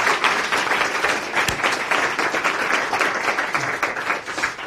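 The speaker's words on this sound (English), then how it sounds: "I think we can give a round of applause again to Susanna." An audience applauds after a physics lecture at a school, a dense, even wash of many hands clapping that holds steady throughout, fairly close and loud, with no voice above it.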